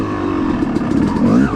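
A Yamaha YZ dirt bike engine revs hard while climbing a hill. The close, loud motor note rises and falls in rough bursts over a short stretch.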